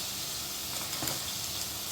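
Steady oily sizzling of spice paste with ginger-garlic paste being sautéed in oil in a pan for chicken gravy, a continuous hiss with faint stirring scrapes, no talking.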